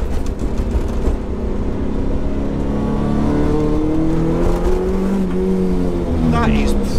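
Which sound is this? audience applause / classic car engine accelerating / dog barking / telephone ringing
classic car engine accelerating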